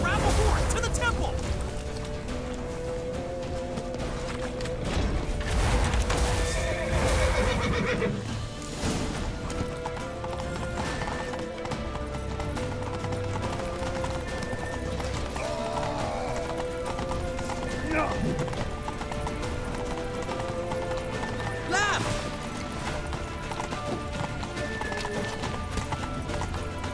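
Horses gallop with steady clip-clop hooves and an occasional whinny during a chaotic chase to a temple in The Witcher 3, mixed under shouted voices, a musical score and other game effects.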